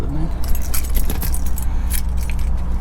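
Keys jangle and clink in the ignition of a 2007 Mercury Grand Marquis GS close by, over a steady low car engine hum, with faint rattling throughout.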